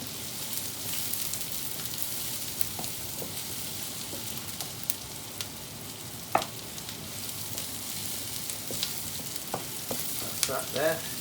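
Garlic and ginger frying in oil for a lentil dal, with an even hissing sizzle and occasional crisp pops and stirring clicks, and no talking.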